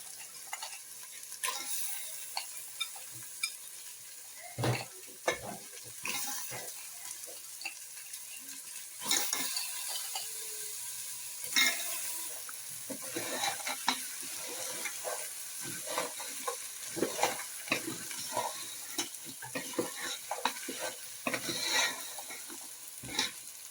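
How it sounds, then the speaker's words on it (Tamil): Crabs being stirred and sautéed in hot oil for a crab masala coconut curry: a steady sizzle under frequent scraping, clattering stirs of a spoon against the pan, with no talking. "ஆட் பண்ணி நல்லா வதக்கணும் எண்ணெயில்."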